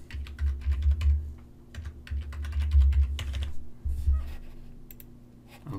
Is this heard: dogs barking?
no